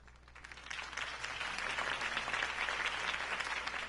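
A large video game crowd applauds steadily, the clapping swelling slightly after the first second and staying thick and sustained to the end.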